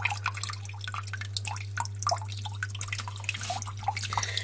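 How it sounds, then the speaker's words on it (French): Water trickling and dripping in a juvenile green iguana's terrarium cascade, a steady close patter of drops over a constant low hum. "Le bac d'eau, la cascade"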